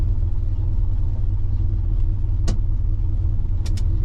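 A 1964 Pontiac Catalina barn find, running and driving after more than 30 years, gives a steady low engine rumble from inside the car, with a few brief squeaks or clicks over the drone.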